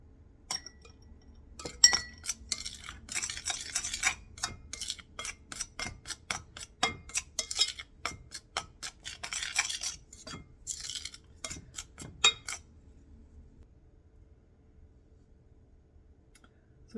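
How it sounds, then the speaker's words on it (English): Ice water being mixed into pie crust dough in a bowl, heard as a busy run of close clinks, taps and scrapes of utensil against dish for about twelve seconds, then near quiet with no talking. "start adding some ice water, a little bit at a time, and then mix it"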